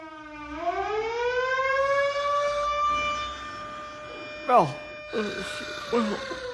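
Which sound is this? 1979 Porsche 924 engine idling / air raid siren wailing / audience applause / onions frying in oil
air raid siren wailing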